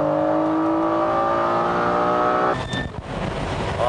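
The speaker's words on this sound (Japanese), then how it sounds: "あー、 NSX が来るな。" A Honda NSX race car accelerating hard down a straight in cold weather, a loud engine howl climbing steadily in pitch, then breaking into a rough roar as it passes close by.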